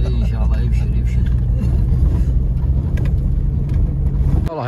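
A Toyota Hilux engine running steadily in the Empty Quarter desert, a loud continuous low rumble with constant drone and little variation, while someone talks over it.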